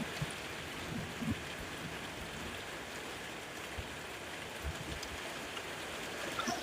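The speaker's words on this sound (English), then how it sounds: "the sound of the rain is getting pretty loud" Steady, heavy rain falling outdoors as an unbroken hiss with occasional soft patters and drips, fairly loud and continuous, with no voices.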